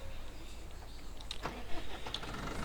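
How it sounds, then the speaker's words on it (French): Small tractor engine in a farming video game, cranking and catching into a low, steady rumble with a few brief clanks, fairly quiet and with no speech. "Allez, on va monter dans notre petit tracteur."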